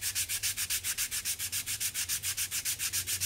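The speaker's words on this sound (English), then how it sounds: "as you're sanding these, they get really smooth" Steady back-and-forth hand sanding of a wooden pencil box piece, about twenty even rasping strokes in a fast regular rhythm, close and clear with no talking.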